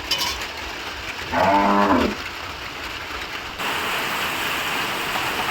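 Heavy rain pours down in a steady, close hiss that runs throughout, while a cow moos once, briefly, early on.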